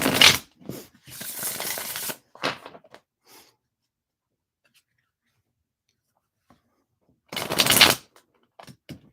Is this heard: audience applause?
no